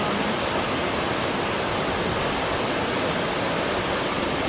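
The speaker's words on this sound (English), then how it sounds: "Let's have a look at the waterfall." Starzlachklamm gorge waterfall near Sonthofen, Bavaria, a steady, loud broadband rush of falling water filling the whole stretch without pause, with no voices over it.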